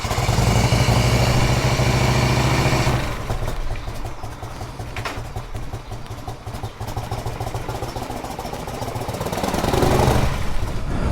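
A 1984 Harley-Davidson FLT Tour Glide motorcycle is ridden while being broken in. Its engine gives a loud, continuous mechanical drone with a steady pulsing beat, heavier at the start and end, with no talking.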